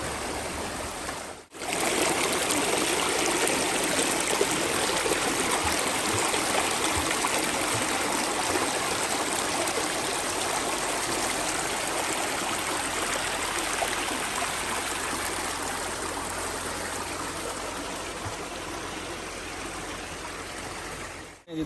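A clear, cold mountain stream flows beside an old water-powered flour mill, giving a steady close rush and babble of water. It is broad and continuous after a brief cut near the start, with no talk over it.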